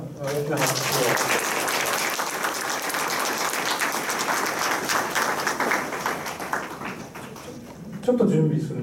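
Audience applause at a symposium in a hall, a dense sustained burst of many hands clapping that holds steady for several seconds before tapering off, followed by a brief voice near the end.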